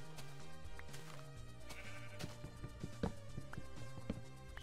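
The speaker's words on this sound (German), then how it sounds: "Ach, diese Schaf." Sheep bleat in the Minecraft video game, short bleats rising over a steady backdrop of game music and ambient sound.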